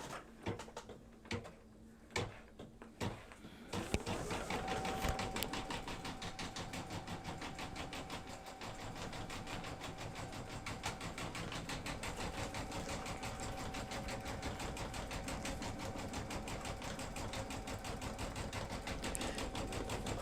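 An embroidery sewing machine stitching a calendar insert, starting after a few scattered clicks and settling into a fast, even mechanical chatter that runs steadily and continuously, close but fairly quiet.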